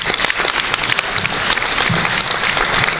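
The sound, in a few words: audience applause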